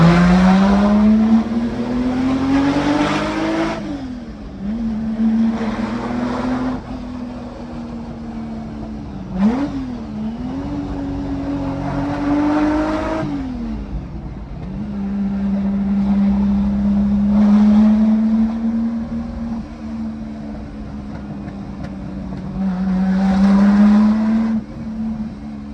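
Lamborghini Miura SV driving, its engine a loud close drone that rises and falls through repeated revs and gear changes, with bright surges of acceleration, no talk.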